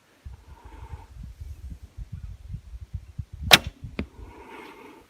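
A 1,000-grain arrow looses from a Manchu bow with one sharp crack, followed moments later by a second brief snap, against a low rumble of wind and handling outdoors.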